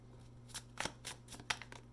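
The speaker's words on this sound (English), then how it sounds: "Let's give it another shuffle here." Tarot cards are shuffled quietly, a few soft riffling bursts and slaps in a loose rhythm over a faint low electrical hum.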